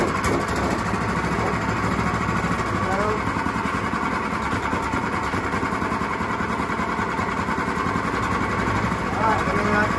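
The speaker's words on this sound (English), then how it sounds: "I'm gonna let it run for at least 30 minutes." A Predator 212 small engine runs during break-in at a steady, loud, close idle with continuous buzzing and no changes in pace.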